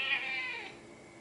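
A tired house cat lets out one drawn-out, grumbling meow, loud and close, that slides downward and fades out with no talk over it.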